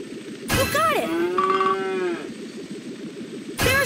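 A cartoon cow moos in a Paw Patrol video game, one drawn-out, rising and falling bellow lasting about a second and a half, clear and close, with bright game chimes and music at the start and end.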